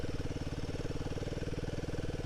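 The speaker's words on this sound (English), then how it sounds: "The engine of this bike is just a sweetheart." Royal Enfield Himalayan 450 motorcycle engine runs with a steady, rapid, even thumping pulse, close and fairly loud, with no talking.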